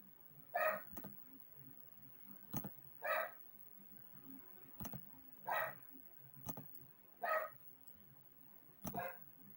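A dog barks at the back door by his dog door, wanting to go out: five or six single barks, spaced roughly two seconds apart, sounding moderately near against a quiet room with faint clicking.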